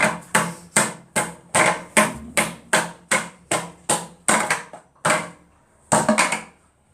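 A hammer strikes a tomato held in a container, delivering about a dozen sharp, loud, evenly spaced whacks, each a crisp thud that fades quickly, with one longer gap near the end before two final blows.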